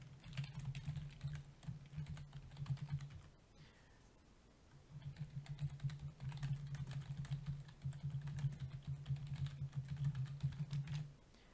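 Typing on a computer keyboard while entering a WordPress article title and body text: two steady bursts of rapid keystrokes, close and clear, separated by a short pause.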